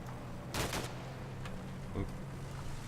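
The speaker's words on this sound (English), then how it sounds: "Continue to launch grenade launchers into this little stretch of trees for a while." Distant gunfire and grenade launcher rounds from Combat Mission: Black Sea, aimed at a stretch of trees, pop faintly in a few scattered bursts over a low steady rumble.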